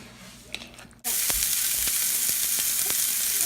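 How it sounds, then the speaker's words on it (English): Twelve rolled meatballs cooking in a pot, with a sudden loud sizzle bursting in after a quiet second and holding steady, marked by a few sharp crackles and pops. "So I rolled 12 meatballs. And now they're cooking in the pot."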